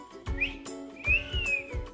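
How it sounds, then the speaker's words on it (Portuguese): A baby girl whistles, giving two short, wavering, high-pitched notes, the second longer and gently falling, with soft low thumps between them. "Vocês acreditam que existe um bebê que assobia?"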